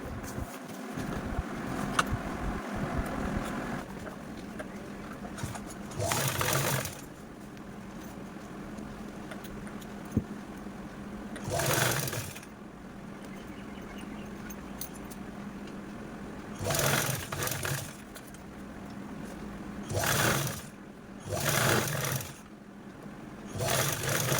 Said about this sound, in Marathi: आता आपण अशा पद्धतीने स्टिच करून घेऊया